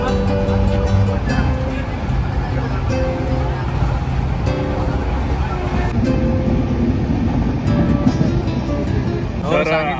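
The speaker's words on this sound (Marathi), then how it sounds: "ट्रेन सुटली आता खेडवरून।" A passenger train pulls away from Khed station, heard from inside the carriage as a steady, loud rumble and rattle that runs the whole time while people talk over it.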